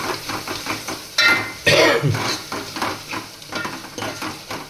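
Green onion cooking in a pan for Gujarati dal dhokli: steady sizzling and frying with repeated scraping and stirring of a utensil against the pan, plus a couple of louder clanks.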